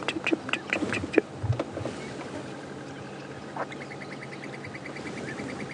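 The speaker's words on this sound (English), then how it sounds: "You might just be able to hear the squirrel going chip, chip, chip" A squirrel on a game reserve gives a fast, even series of small chipping calls from some distance, faint against open bush ambience, with scattered bird calls earlier and no talking.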